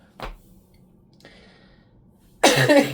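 A single short cough near the start, then quiet, before a louder burst of broadband noise at the end.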